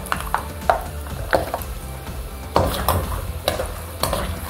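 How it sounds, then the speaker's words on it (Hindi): Peanuts stirred and dry-roasted in a pan over a low flame for a namkeen mix, with a soft crackling sizzle and repeated scraping stirs at close range. "गैस को ऑन करना पड़ेगा क्योंकि मूंगफली को धीमी आंच में भूनना है"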